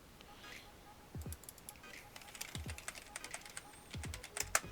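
A computer keyboard is typed on in short, irregular bursts of light clicks, faint and close, with a few low thumps and gaps of near silence.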